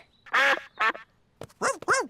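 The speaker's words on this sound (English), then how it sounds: "Sorry, Mrs. Duck." A cartoon duck in an animated children's show quacks several times in quick, loud bursts, the calls rising and falling in pitch.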